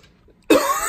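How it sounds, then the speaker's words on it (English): A single sharp cough bursts out close and loud after a near-silent pause, then trails into breathy noise, from someone opening packs of 2000 Bowman football and 1986 Fleer basketball cards. "I still have my cough"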